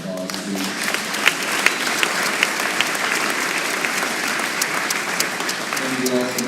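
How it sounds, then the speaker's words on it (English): A graduation ceremony audience applauds the presenters, filling the room with steady, dense clapping at an even level, with a few sharper individual claps standing out and brief voices at the start and end. "Can we give our round of presenters another round of applause"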